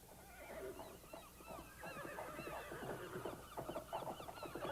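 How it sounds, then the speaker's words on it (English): Several horses whinny and neigh in sprawling stables, overlapping calls rising and falling close by at moderate volume, with no voices. "These horses are beautiful."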